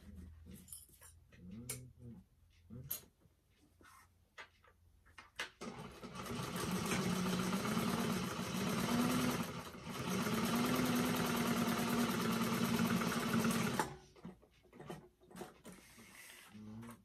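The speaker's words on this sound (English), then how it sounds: "we're going to top stitch that" A sewing machine top stitches a folded bag pocket closed, running in a steady whirring burst of about eight seconds, with brief pause and short taps before and after.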